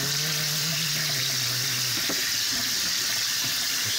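Fresh fiddleheads rinsed under a running faucet, a steady close hiss of flowing water splashing into a sink, with a brief clink partway through.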